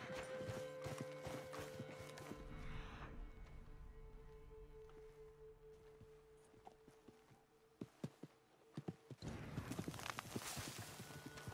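Horse hooves clip-clop in Red Dead Redemption 2 as the horse heads off through scrubland, steady footfalls with a whinny, fading and fairly faint, then a louder flurry of hoof and movement noise near the end.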